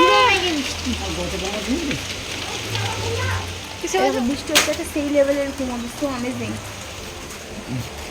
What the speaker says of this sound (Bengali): দেখো বৃষ্টি শুরু হয়েছে বৃষ্টি সেটাই তো হলো কথা দেখো জোর বৃষ্টি হচ্ছে